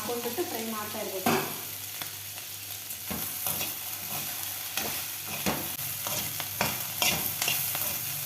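Okra frying in oil for bhindi masala, a continuous close sizzle under repeated scraping stirs of a spoon against the pan, with sharper clatters every second or so.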